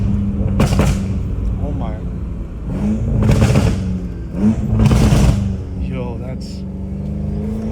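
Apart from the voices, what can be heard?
BMW M5 Competition engine revving and shifting gears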